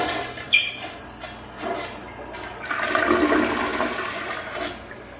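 An American Standard Cadet toilet flushing with a length of paper in the bowl, a close, loud rushing flush that starts after a click and swirls steadily to the end.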